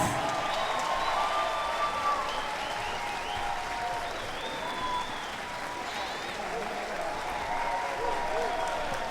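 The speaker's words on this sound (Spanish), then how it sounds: "ese cálido aplauso nuevamente para este desfile de artistas." A large audience applauds steadily throughout, a dense wash of clapping with a voice speaking over it.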